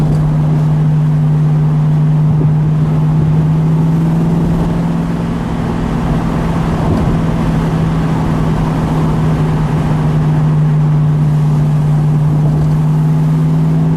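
A 1973 AMC Javelin with a 401 V8 and four-speed manual drives along, its engine a loud, steady low drone with road rumble throughout, heard from inside the car without talk.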